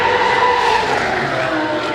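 Twin turbo Corvette race car at speed on a track during World Time Attack Challenge 2023, a loud continuous high-pitched engine wail with tire noise, sustained and close for the whole moment.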